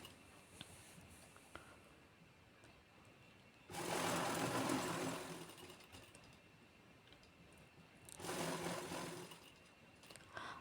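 An electric sewing machine stitches a blouse lining in two short runs of fast, whirring mechanical rattle, separated by a quiet pause, heard up close with no talking.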